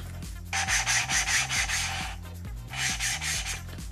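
Lapping compound grinding valves on an RB26 engine from an R32 Skyline GTR, heard as two bursts of rhythmic back-and-forth rasping rubbing, close and fairly loud, with quieter scraping between them and no talk.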